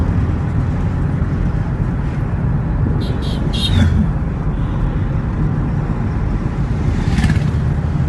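Private car driven during a driving training lesson: steady low engine and road rumble from inside the cabin throughout, with a few brief higher clicks and sounds midway, no talk.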